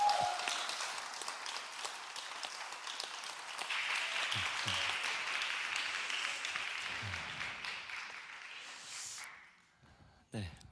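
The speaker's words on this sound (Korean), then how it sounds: "우리 전도사님 환영하는 마음으로 박수로 모시겠습니다" Congregation applause welcoming a preacher at a Korean youth Sunday church service, a broad steady wash of clapping lasting most of the stretch before fading out, with a few bumps and room noise near the end.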